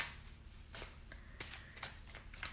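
Magic oracle cards being shuffled by hand, a series of quick soft riffling flutters in an irregular rhythm, close and quiet with no talking.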